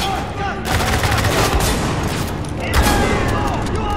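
Rapid gunfire rattles in Spec Ops: The Line, dense loud bursts of shots with blind fire, continuous and close, with a voice briefly talking over it.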